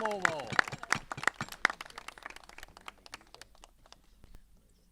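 A few people clap in quick, uneven bursts that thin out and fade, with scattered sharp claps standing out at the start.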